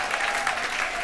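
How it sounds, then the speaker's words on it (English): A dense wash of audience applause, steady and fairly loud, many hands clapping at once with no clear individual claps. "Clap it up for Nick. Give it up"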